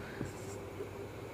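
Marker or chalk writing on a board while working a math problem, soft scratchy strokes in a short quiet burst with faint room noise and no speech.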